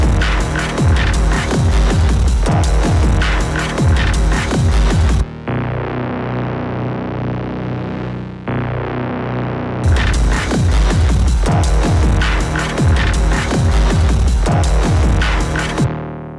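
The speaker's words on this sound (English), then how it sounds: "So this first track is controlling the Ensoniq TS-12. It's a bass sound," An Ensoniq TS-12 synthesizer plays a bass sound in a dense, rhythmic pattern with no talk, broken by a held droning stretch in the middle before the pulsing riff returns at steady, loud level.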